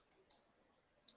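Quiet computer mouse clicks on a hospital clinic software screen: a soft click, then a sharper one, and a final click after a pause, each brief and close.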